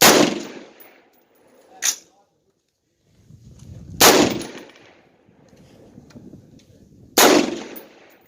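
Three loud rifle shots ring out on an outdoor shooting range at the Civilian Marksmanship Park, evenly spaced a few seconds apart, each with a sharp crack and a lingering echo, with faint murmuring in between.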